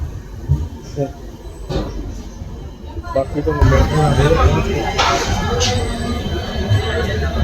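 A train to Bathinda rumbles along the tracks with rattling and occasional squeals, growing louder midway, while people talk and chatter nearby.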